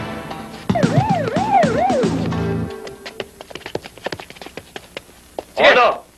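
A police siren from a movie wails loudly for a couple of seconds and then stops. Sharp clattering taps follow, and a brief shout rises near the end.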